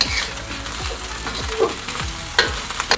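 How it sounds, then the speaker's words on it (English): Shrimp fried rice with egg sizzling loudly in a hot pan, with a close, continuous frying hiss and sharp scraping strokes repeating every half second or so. "I'm gonna let this cook for just about 30 seconds"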